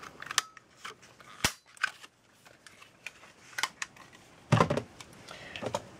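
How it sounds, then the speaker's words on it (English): A 1 1/4 inch circle punch cutting a paper sentiment on a card-making table, a few sharp close clicks and snaps among soft paper handling sounds, quiet and irregular, without talking. "Oh, here's the 1 1/4 inch circle punch, and we'll punch out that sentiment."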